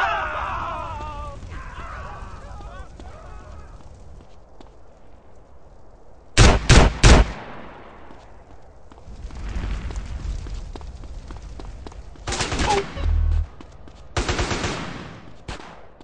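Gunfire in the video game GTA San Andreas: loud bursts of shots and blasts break out between quieter stretches of game ambience, with rapid clusters near the middle and end.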